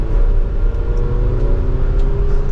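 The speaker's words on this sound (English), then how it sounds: "Now let's put it into sport mode so we can just use this toggle here and then we'll give it a little bit of gas here." A 2024 Chevrolet Traverse LT accelerating gently in sport mode, a steady engine hum and road drone filling the interior without a break.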